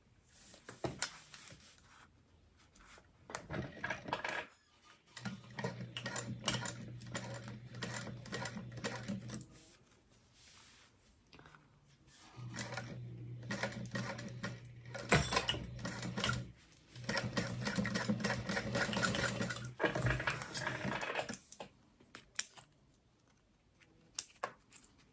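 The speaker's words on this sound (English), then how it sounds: "I'm going to fold this over and top stitch." Sewing machine top stitching along the folded edge of a fabric binder cover, running in several steady bursts of whirring stitches separated by short pauses, close and clear with no talk.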